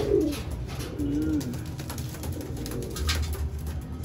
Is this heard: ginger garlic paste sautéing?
no